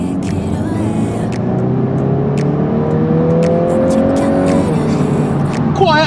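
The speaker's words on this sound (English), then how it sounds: "The car is now up to temperature, so I'm going to give it a little bit of a blast." A 320 brake horsepower Mk8 VW Golf R, fire damaged but warmed up, revs hard with a rising engine note that climbs steadily before dropping, loud and close, with brief clicks and a burst of noise at the end.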